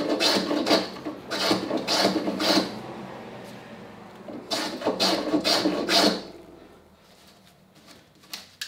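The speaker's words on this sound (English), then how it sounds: "I can put a little chamfer across the back" Wooden drawer pins on a chest of drawers are chamfered by hand with a rasp, making close, rhythmic scraping strokes in two bursts of several passes each, followed by quieter handling.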